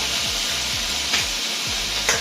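Ginger and garlic sizzle in a hot pan for Szechuan pork, a steady loud frying hiss close by, with periodic stirring scrapes cutting through and no talking.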